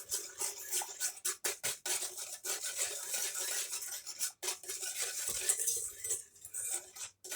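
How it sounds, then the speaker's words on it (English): A spoon stirring thickening blueberry pie filling in a pot on a hot plate, close and steady, with repeated scraping and clinking strokes against the pan and short pauses between them. "You just cook and stir it. Just keep cooking and stirring as you go."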